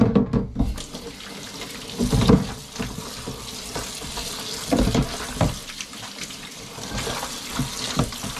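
Water runs steadily from a tap into a basin while the soaking water is being changed, a continuous splashing rush broken by occasional louder sloshes and clatters, with no talk.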